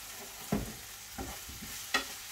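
Food is stirred in a hot pan, where a low sizzle runs throughout and three distinct scraping strokes land about half a second apart, nearby and fairly quiet with no voices.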